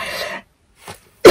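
A person coughs: a rough burst, a short silence, a faint small cough, then a loud, close, harsh cough at the end, with no talking.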